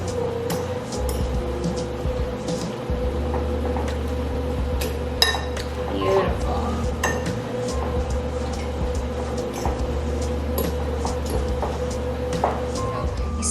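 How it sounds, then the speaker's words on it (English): Kookoo sabzi, an Iranian herb and egg frittata mixture, stirred in a bowl with a utensil, giving close wet clinks and scrapes over a steady low background hum, no voices. "all we're going to do is give everything a good stir again"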